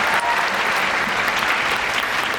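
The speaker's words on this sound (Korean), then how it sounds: "다시 한번 고생해주신 우리 공부 기자님께도 다시 한번 큰 박수 부탁드립니다" An indoor audience gives a dense, steady round of clapping at a Korean talk-show event for actors. The applause is close and loud from start to finish, with no pauses.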